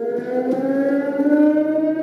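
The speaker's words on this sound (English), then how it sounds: "What you don't get used to is the sirens in the middle of the night." A civil defense siren wails steadily in the night at a remote jungle settlement, a sustained droning tone heard alone.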